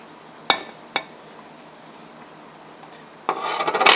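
Cubed butter is stirred into lava cake mixture in a bowl, with two sharp scrapes of the utensil, a quiet pause, then faster rubbing and scraping strokes building toward the end.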